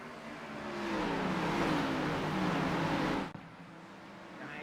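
Race car engines rev and drone in a sim racing video game at Bristol, a steady loud engine whine with rising and falling pitch that cuts off sharply to a quieter engine hum.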